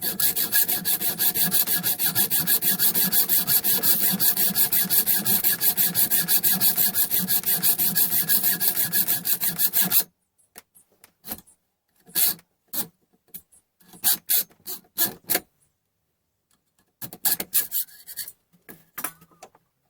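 An M6 nut clamped in a vise being cut through for a relief cut: about ten seconds of steady, continuous rasping strokes, then scattered short cutting bursts separated by pauses.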